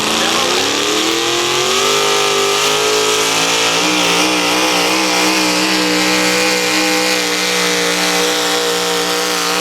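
Pulling truck with a 650 cubic inch alcohol-burning, naturally aspirated engine roaring at sustained high revs at a truck and tractor pull, a loud, dense, continuous wail with pitch wavering slightly.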